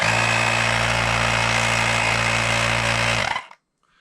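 A Mioji compact electric air pump running with a loud, steady motor drone and high whine, close by, then cutting off abruptly near the end into silence.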